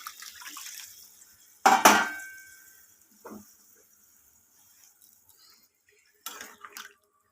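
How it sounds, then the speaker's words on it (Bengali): Water splashes into a pan of hilsa fish curry with potato and eggplant in one brief, loud pour, followed by a few faint clinks and a final short splash. "এরপর আমি এতে জল অ্যাড করে দেবো পরিমাণ মতো"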